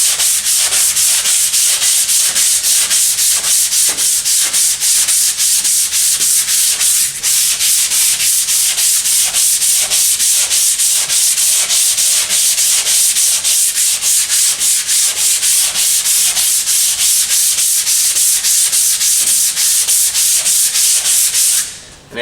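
Hand sanding of a body kit on a 2009 Chevrolet Cobalt with a small sanding block. Close, loud, rapid back-and-forth rasping strokes continue steadily and stop abruptly at the end.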